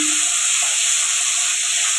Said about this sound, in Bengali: এখানে মাছটা ভাজা করছি আমি,